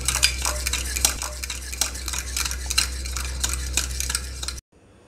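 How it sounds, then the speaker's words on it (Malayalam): A spoon stirs ground paste into bitter gourd kichadi, making continuous wet scraping and clinking against the pan over a low hum before cutting off abruptly. "ഇതിലേക്ക് നമ്മളിട്ട് അതുകൂടി നമ്മൾ നന്നായിട്ട് ഇതിനകത്ത് മിക്സ് ചെയ്യണം."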